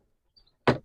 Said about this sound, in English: So to open the door, pull,